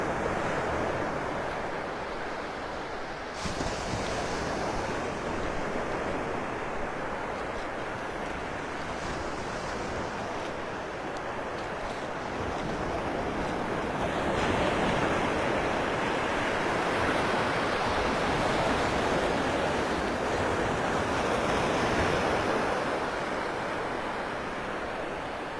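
Ocean waves roll onto the beach at Delnor-Wiggins in North Naples, Florida, a continuous loud wash of surf mixed with wind buffeting the microphone, with no voices.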